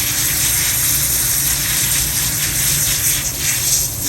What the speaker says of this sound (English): take them over here and wash them off